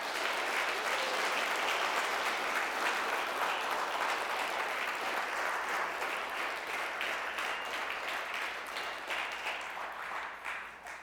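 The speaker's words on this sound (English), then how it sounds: "I could have timed that better so I had left by the time you stopped applauding" Audience at a comedy show applauding, a dense and loud sustained round of clapping from a crowd that holds steady for several seconds and then begins to thin out near the end.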